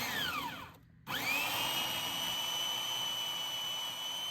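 A chainsaw whines at high speed, cuts out for a moment, then revs back up to a steady, piercing, sustained run.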